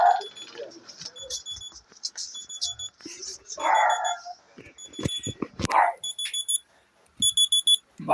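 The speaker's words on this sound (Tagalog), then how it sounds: "Alarm yun para sa gamot ko." An alarm clock beeps in repeated short bursts of rapid electronic pips, while a dog barks intermittently and background noise fills the gaps.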